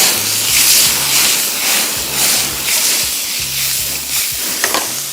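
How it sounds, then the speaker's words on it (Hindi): Bologna slices sizzling in a hot pan, a steady loud crackle and hiss broken by bursts of stirring and scraping. No one speaks. "और अब इसको हम थोड़ा सा करेंगे फ्राई"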